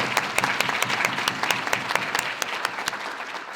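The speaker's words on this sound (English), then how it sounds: "help me give them a round of applause because they were really hard for" An audience at a healthcare summit applauds, many hands clapping in a dense, fairly loud burst that tapers off toward the end.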